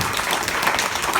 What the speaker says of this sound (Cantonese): 一個掌聲嘅鼓勵咧